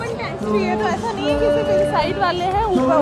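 Dense crowd chatter fills a packed Oktoberfest festival ground in Munich, with many overlapping voices forming a steady, loud hubbub and a few nearer voices rising above it.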